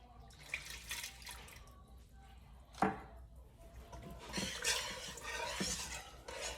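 Milk being stirred into a homemade mac and cheese sauce gives soft, quiet scraping and swishing in the pan, with one sharper clink of utensil against pot and a few wet sloshes.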